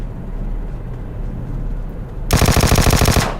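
Automatic gunfire in the mobile battle royale game PUBG Mobile: a loud, rapid burst of shots lasting about a second follows a quiet stretch of low background rumble.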